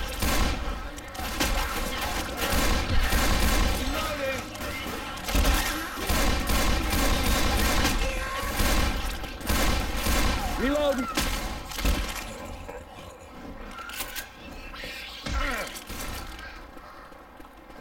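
Rapid gunfire in the zombie shooter Left 4 Dead 2, with bursts of automatic weapons and shotgun blasts rattling almost continuously, punctuated by sharp impacts, while players talk over the chaos.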